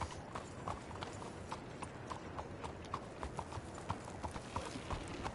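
Horse hooves clip-clopping at a steady walking rhythm in the Red Dead Redemption 2 video game, each strike distinct but quiet against a soft background bed, with no talk.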